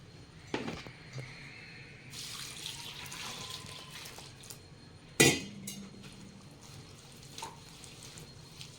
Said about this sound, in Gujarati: હવે આપણે એને 2-3 પાણીમાં ધોઈ નાખીએ.